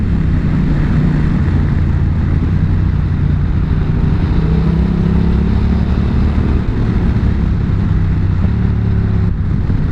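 A Honda Rebel 1100 motorcycle engine drones loudly and steadily while being ridden, with pitch shifts as gears change, heard close with no one talking.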